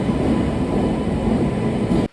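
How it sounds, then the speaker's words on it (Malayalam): A passenger train rumbles loudly and steadily nearby, a heavy continuous roar that cuts off abruptly at the end. "നമ്മുടെ ട്രെയിൻ എത്തിയിട്ടുണ്ട്"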